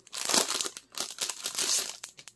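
Packaging crinkles and crumples in several bursts up close as the components of the Castle Panic Big Box board game are unwrapped.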